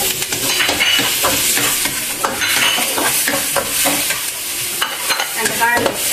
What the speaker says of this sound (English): Then need to stir fry the onion.